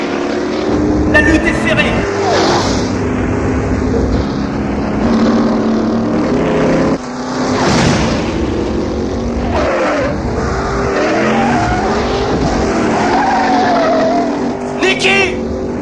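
A Chevelle race car roars along a track among other racing cars, engines loud and continuous with a brief dip in level, while someone talks over the noise.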